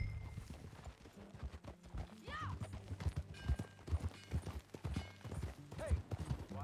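Horse hooves clip-clop in Red Dead Redemption II, a quiet irregular trot under game music and a brief whinny, with characters talking over it.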